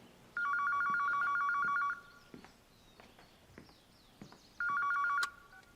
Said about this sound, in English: I promise you that phone's going to ring any day now